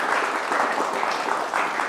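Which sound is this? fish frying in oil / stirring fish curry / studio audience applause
studio audience applause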